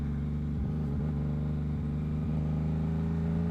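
A Yamaha MT-09 with a Two Brothers exhaust revs under way, its engine note dipping briefly at several quick-shifter gear changes, a steady loud mechanical drone with no voices.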